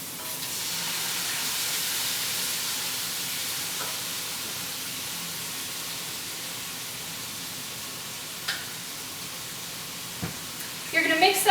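Half a 28-ounce can of tomatoes being stirred into a sauce base in a pan, a soft continuous sizzle and hiss with a few scraping clicks near the end.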